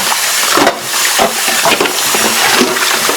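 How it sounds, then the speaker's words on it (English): Kitchen tap water runs steadily into a sink while dishes are rinsed, a continuous broadband splashing hiss with a few brief clatters of dishes, close and fairly loud, with no voices. "I'm going to turn the water off here"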